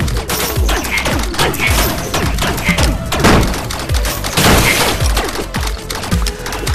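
Rapid gunfire from shooting in the Rec Room VR game, a dense, loud barrage of sharp bursts and thuds running steadily throughout, with no talk.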